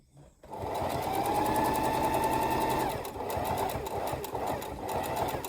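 A sewing machine runs steadily, stitching closed a wheat-filled fabric heat pack, its fast rhythmic whir loud and close, slowing briefly midway before carrying on.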